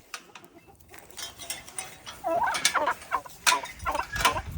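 Turkeys gobble and cluck nearby in repeated bursts, growing louder and busier after a quieter start.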